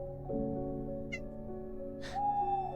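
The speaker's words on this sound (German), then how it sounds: "Meine Katze will sich gerade bei mir auf den Bauch lehnen." A pet cat gives a couple of short, clear meows close by in a quiet indoor room, with a steady faint tonal hum underneath and no talk.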